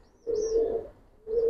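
A Jhuma pigeon gives two close, loud, drawn-out throaty coos separated by a short pause, with nothing else audible.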